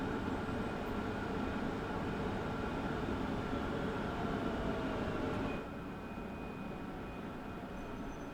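A Class 323 electric train in Train Sim World 5 on the Birmingham Cross City line produces a steady, broad rail rumble with a faint high tone. The rumble drops in level partway through as the train passes, and no one speaks.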